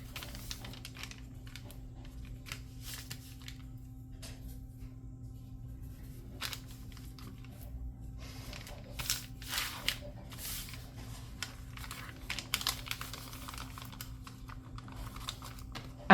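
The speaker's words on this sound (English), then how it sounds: "I'm folding the bag into its final shape" A paper lunch bag journal being folded and creased by hand, with faint, close rustles and sharp crisp crinkles that grow busier toward the end, over a quiet low hum.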